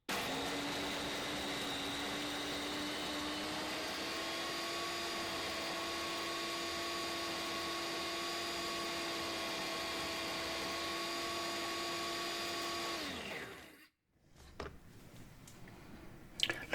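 A blender mixes olive tapenade in a kitchen with a steady, loud motor whine that shifts pitch slightly partway through, runs for about thirteen seconds, then cuts off. Faint handling noises follow.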